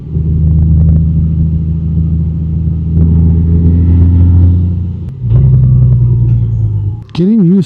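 Honda Gold Wing Tour 50th Anniversary DCT motorcycle engine hums steadily while riding, a loud low drone that dips briefly then resumes, with a short whining sweep near the end.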